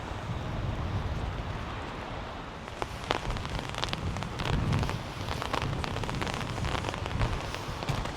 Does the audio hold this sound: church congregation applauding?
no